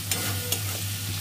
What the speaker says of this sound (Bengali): আর এটা আছে মিক্সচার মশলা, ধনে, গোলমরিচ আর মৌরি দিয়ে এবার ভালো করে কষে নেব।